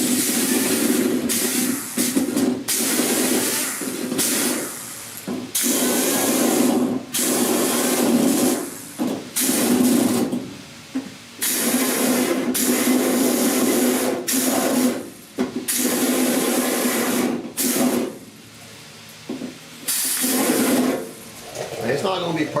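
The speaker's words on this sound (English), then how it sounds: "I'll put the die grinder bit in here on the edge and cut that stuff out as much as I can" A die grinder cuts weld-through primer off the edge of a rusty 1969 Chevy C10 cowl panel during repair, a close whining, hissing grind in repeated bursts with short pauses between passes, and a voice heard at points.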